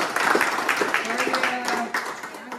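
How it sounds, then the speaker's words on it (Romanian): Applause and clapping from guests at a surprise family celebration for a woman, a scattered patter of hands rising and fading under a loud announcer's voice speaking over it. "Aplauze, copii!"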